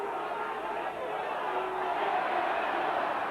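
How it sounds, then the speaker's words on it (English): A rugby league crowd at Leeds versus Widnes in 1992 gives off a steady, broad roar of booing and murmur from the stands, sustained and fairly even throughout with no single voice standing out. "The crowd booing for some unknown reason."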